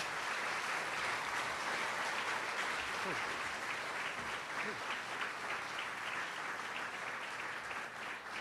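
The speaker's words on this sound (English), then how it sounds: "Please give yourself a round of applause." A crowd at an LGBT center grand opening applauds steadily and loudly throughout, with some voices mixed into the clapping.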